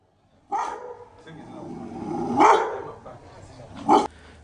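Security dogs bark in flood-hit Lusaka, several distinct loud barks and a growl spaced over a few seconds, fairly close, with no talk over them.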